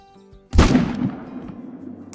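A rifle shot at a mule deer in the hunting video game Call of the Wild cracks once after a quiet start, loud and close, then rolls off into a long fading echo.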